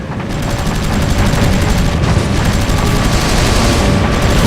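Rapid, sustained aircraft machine-gun fire from a World War II fighter in the Heroes over Europe flight game forms a loud, dense rattle that runs unbroken through the whole stretch, with no voices over it.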